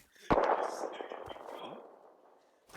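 A single sharp sniper rifle shot rings out loudly in a video game, followed by a long rumbling echo that slowly fades, with people talking over it.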